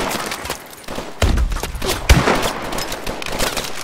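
Gunfire in Call of Duty: Advanced Warfare: several loud, close shots ring out in quick succession with sharp bangs and echoing tails, amid game combat noise.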